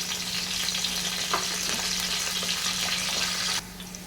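Onions and curry leaves fry in hot oil in a pan, giving a steady crackling sizzle with a constant hum underneath and a few sharper pops, dropping abruptly quieter near the end.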